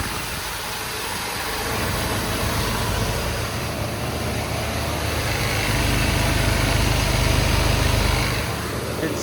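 A 390 V8 engine idles smoothly on all eight cylinders, a loud, steady low rumble close by that swells slightly midway.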